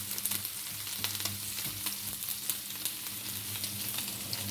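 Wagyu beef fries in a hot pan with a steady, dense sizzle and crackle, close up, while a low hum runs underneath and occasional faint stirring taps break through.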